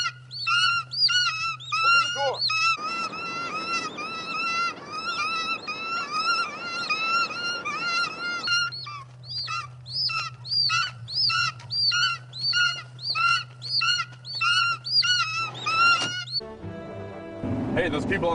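A flock of birds swarms a bus of people, their shrill, overlapping cries and chirps repeating in rapid bursts over a steady low hum and roar of commotion, continuing loudly throughout.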